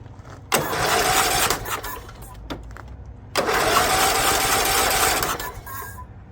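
A long-idle barn-find John Deere LT150 lawn tractor engine cranks in two loud, sustained bursts separated by a pause, catching roughly and settling briefly between attempts; the engine may be flooded with gas.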